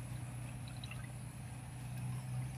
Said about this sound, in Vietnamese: Mình xả nước vô thêm.